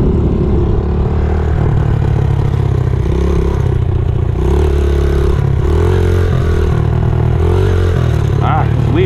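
A Honda XR70 dirt bike engine labors in first gear during a wheelie attempt, running loud and close with repeated throttle swells and a clattering mechanical edge. A voice comes in briefly near the end.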